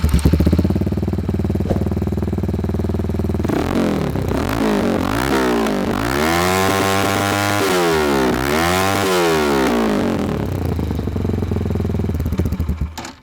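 A V8 250cc R1 replica motorcycle fitted with an M4 exhaust starts up and idles, its engine note loud and steady, then blipped through several rising and falling revs before settling back toward idle.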